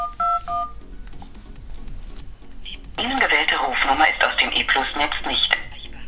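Dialing tones from a UMI Zero smartphone running Android 5.1.1 during a test call, a few short dual-tone beeps at the start, then a louder stretch of call audio with voice-like sound from the earpiece.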